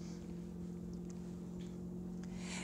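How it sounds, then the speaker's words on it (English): Motorboat engine passing nearby on open water, a steady low droning hum with wind buffeting the microphone and a rising rush of water at the end. "In this motherfucking boat."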